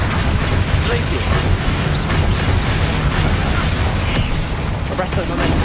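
Magic spell effects from Hogwarts Legacy sound as a dense, continuous barrage of booming blasts, bursts and crackling impacts, loud and close, with a voice calling out over the combat.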